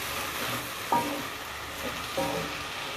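Water spinach stir-frying in a pan, a soft continuous sizzle with two brief clinks of stirring, quiet and alone without talk.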